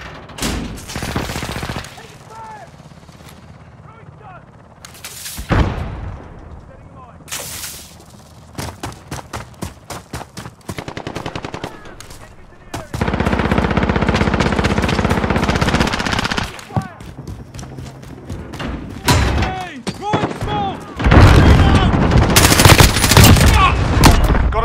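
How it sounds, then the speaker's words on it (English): A sentry gun fires in Call of Duty Modern Warfare with long, loud bursts of rapid automatic fire mixed with sharp single shots, growing denser toward the end, with occasional voices between bursts. "Got a sentry gun on station. Guns hot."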